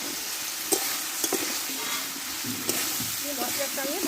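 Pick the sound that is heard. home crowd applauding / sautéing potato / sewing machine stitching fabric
sautéing potato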